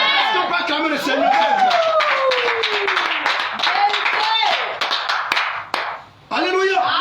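A church congregation claps and cheers loudly during a French-language service, a dense burst of applause and voices that rises together, dips briefly near the end, then swells again.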